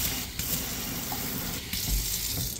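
A newly installed water tap in a renovated home runs steadily, a close continuous splashing stream into a sink with no voices over it.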